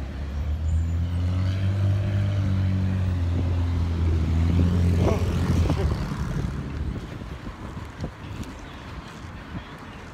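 Traffic rolling along a road, with a heavy low rumble of cars and trucks passing close for the first several seconds, then fading to a quieter steady roadside hum with occasional small knocks.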